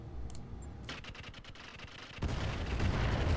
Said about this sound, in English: I still love that explosion.